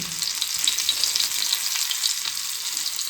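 Loud, continuous sizzling and crackling of batter-coated bombil (Bombay duck) fish frying in hot oil, with fine popping bursts throughout and no voices.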